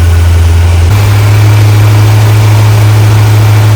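A new engine in a 1964 Ford Galaxie idles on a run stand, with a loud, steady low rumble that shifts up slightly in pitch after the first second and then holds even.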